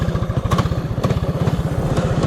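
A mini drift quad's small engine runs close by with a rapid, steady, throbbing putter that keeps an even rhythm throughout.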